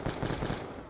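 Rapid automatic gunfire from a heavy-recoil weapon in Black Ops 2 Zombies on the Buried map, a dense, continuous burst of shots at close range lasting under a second.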